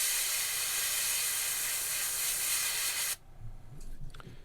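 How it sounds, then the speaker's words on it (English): An airbrush sprays opaque white paint onto a longear sunfish fishing lure, a loud steady close hiss that cuts off abruptly after about three seconds, leaving faint handling noises. "we're going to spray some opaque white on there"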